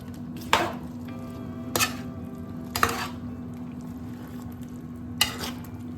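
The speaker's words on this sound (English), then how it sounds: "there I add my garlic paste, bay leaves and cloves. Give it a good mix." Garlic paste, bay leaves and cloves fry in a pan for a Sri Lankan aubergine curry, a steady low sizzle broken by four sharp spoon knocks against the pot at irregular intervals, close with no talk.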